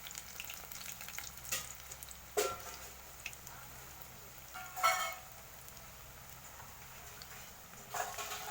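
Thick Brahmi leaf fritters deep-fry in hot oil in a home kitchen, giving a faint, steady sizzle with a few louder bubbling bursts and occasional stirring clatter.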